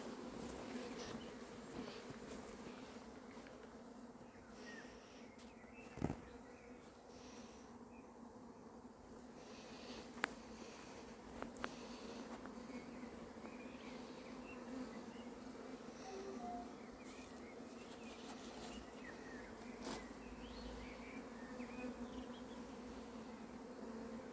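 A honeybee swarm being collected at Varennes-sur-Seine hums in a steady, sustained buzz, moderately close, broken by a few brief knocks and clicks, with no talk.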